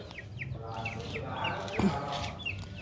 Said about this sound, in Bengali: আর এইখানে মুরগিগুলো আছে